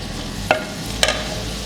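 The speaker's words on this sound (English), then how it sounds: "The remaining oil goes in, and then the onions goes in as well." Onions frying in oil in a pan for a Ghanaian minced beef cabbage stew, a dense steady sizzle with two brief sharp utensil knocks, close and loud, no voices.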